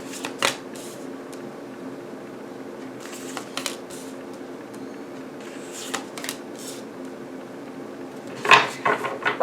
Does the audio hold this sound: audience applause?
no